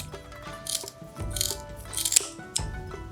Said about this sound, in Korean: 먼저 가위로 지느러미랑 꼬리를 정리해주겠습니다.